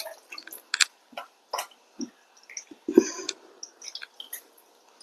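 Water poured into a cooking pot while preparing a Kerala tamarind curry, heard as close, irregular splashes and drips with small clinks of utensils, no voices.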